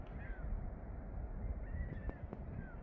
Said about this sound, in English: We got some birds now flying around again.